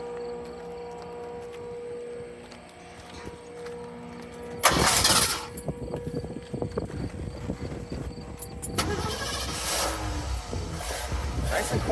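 Starter whirrs on a 1974 Ford Bronco Sport with a 302 V8 and stock exhaust, the engine catching with a sudden burst, then settling into a steady, slightly throaty idle close by, with faint voices in the background.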